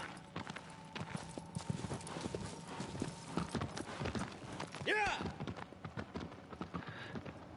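In Shadow of the Colossus, a horse's hooves clip-clop at a steady trotting rhythm, close and continuous, with a brief whinny midway and a person talking over it.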